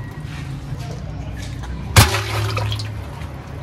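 Cooking oil and ghee pour into a large pot for chicken karahi, a sudden loud splash followed by a steady liquid rush that fades out.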